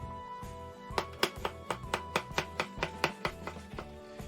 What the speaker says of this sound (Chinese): 咱们将腊肠切成片儿